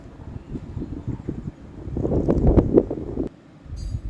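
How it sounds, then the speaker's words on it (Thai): Wind gusting outdoors with rustling and rumbling buffeting on the microphone, steadier at first, then swelling into stronger bursts before easing off. "ข้างนอกก็จะมีเสียงลมบ้างแล้วก็มีเสียงนกร้องนะคะ"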